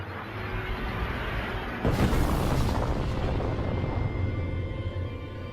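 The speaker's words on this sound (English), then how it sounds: "the universe and everything in it exploded into existence from a point smaller than an atom" A deep explosion sound effect depicting the Big Bang erupts about two seconds in, then a broad rumbling roar holds loud and steady to the end.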